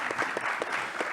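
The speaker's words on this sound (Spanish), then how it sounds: "un aplauso para Juanes" Audience applause at a talk on Colombian cultural roots, faint and fairly distant clapping heard in a short burst without speech.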